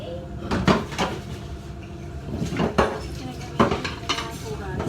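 Dishes, pots and pans clatter and clink in a busy home kitchen as they are washed, with repeated knocks and scrapes of cookware rising in short bursts over a steady background of running activity.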